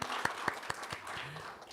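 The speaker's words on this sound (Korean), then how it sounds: "아버지 하나님께 감사와 영광의 박수 올려드립니다." A church congregation claps in praise after a prayer at a Korean healing revival service, a short burst of loose, uneven claps with a few sharp individual hand strikes standing out, fading after under two seconds.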